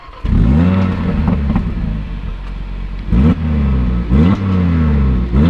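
An Audi RS3 pulls away with its engine revving and rising in pitch, with a couple of short gear-change dips and renewed acceleration, loud and close, no talk.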